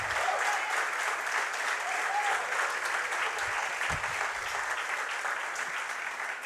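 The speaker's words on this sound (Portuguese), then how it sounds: "Pode aplaudir aí." A church congregation applauds at a family worship service, steady dense clapping from many hands that holds at an even level throughout, with faint voices mixed in.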